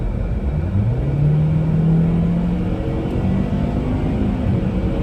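A car's engine drones and revs steadily as its wheels spin on an icy road, a continuous low rumble with rising and falling tone, close and unbroken throughout.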